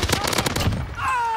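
Quick bursts of gunfire in a multiplayer shooter, a short flurry of sharp shots that gives way to a steady tone, with a voice briefly underneath.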